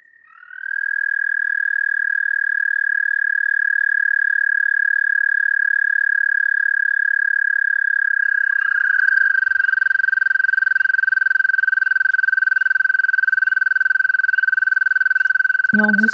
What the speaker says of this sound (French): Puis son chant est très long. Mais vous allez voir, on dirait qu'il n'arrête jamais. Le crapaud d'Amérique.